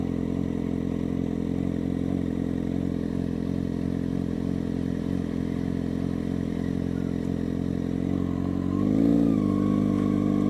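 A motorcycle engine idles steadily and close, a low throbbing drone, then rises briefly in pitch and loudness near the end as the rider sets off.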